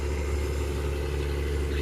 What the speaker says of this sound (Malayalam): അതിൻ്റെ എഞ്ചിൻ്റെ സൗണ്ട് കേൾക്കുമ്പോൾ ഒരു പ്രത്യേക രസം